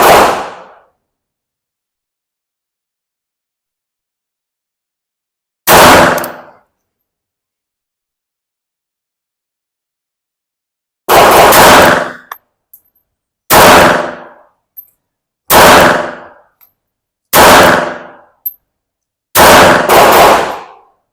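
A compact Smith & Wesson M&P Bodyguard .380 pistol with Crimson Trace laser fires seven loud, sharp reports, the first two widely spaced, then five in quicker succession, each cracking close and ringing briefly.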